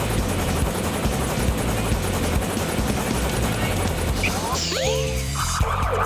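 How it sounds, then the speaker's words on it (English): In the Sonic Adventure video game, a helicopter's steady, dense rotor chop runs loud and unbroken, while game effects like swooshes and bright pings layer over it toward the end. "Oh yes, the helicopter!"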